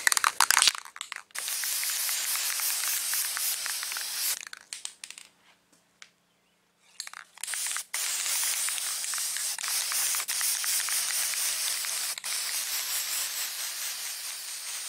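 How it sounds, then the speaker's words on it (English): Long bursts of aerosol guide coat spraying onto a fiberglass dashboard repair close up, with a brief pause midway before spraying resumes in steady pulses. "So let's spray this guide coat."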